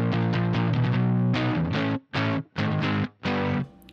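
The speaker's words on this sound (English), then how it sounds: "You hear that lo-fi crunch?" Lo-fi crunch from a DIY Good Boy Fuzz pedal: a fast run of distorted guitar chords, then four short choppy stabs separated by brief silences, loud and upfront with no talking.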